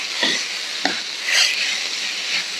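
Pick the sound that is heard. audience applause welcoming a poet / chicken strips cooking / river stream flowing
chicken strips cooking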